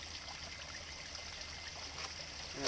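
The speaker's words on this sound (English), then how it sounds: "I'm going to fill my water bottle." River water flows and trickles nearby while a water bottle is filled from it, a soft continuous babble of the stream with a faint splash near the end.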